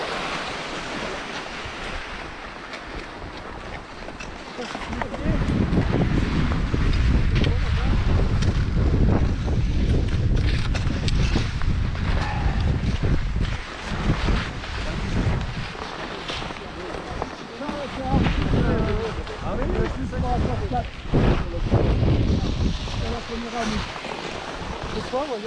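Strong wind buffets the microphone at a ski resort, loud gusty roaring that swells and dips throughout, with people talking in French underneath.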